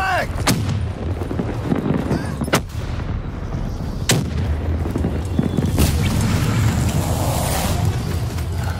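Heavy booming blasts, including a frag grenade explosion, ring out in Black Ops 3 multiplayer, several sharp loud bangs spread across a rumbling, noisy game mix.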